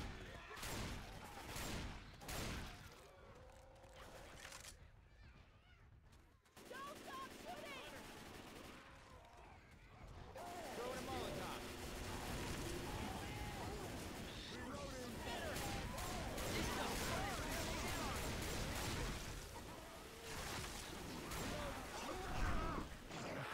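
Rapid bursts of video-game gunfire from a zombie shooter, loud and close, with repeated shots and sustained volleys over shouting voices throughout.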